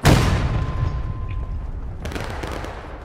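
An artillery cannon fires in War of Rights, a Civil War game battle with a large company of players, giving a single loud boom that rolls away into a long rumbling tail with distant crackling shots behind.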